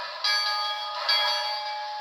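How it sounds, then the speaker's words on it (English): Bell from a Tsunami sound decoder in an Athearn 2-6-0 Mogul model locomotive, ringing twice in a steady rhythm with a bright metallic tone that sustains clearly and alone between strikes. "F1 is the bell."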